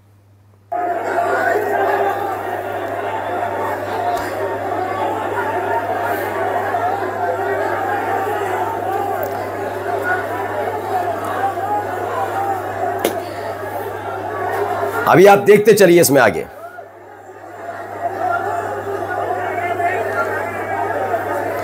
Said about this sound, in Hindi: भीड़, बेतहाशा भीड़ आपको नजर आएगी।